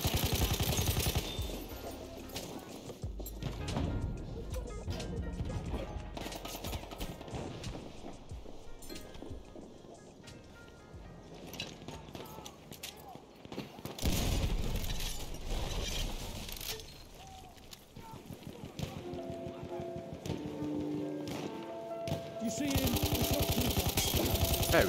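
Gunfire in the World War I shooter Battlefield 1, with bursts of rifle and machine-gun shots crackling amid a busy battlefield mix over about twenty-five seconds, loud stretches alternating with quieter lulls.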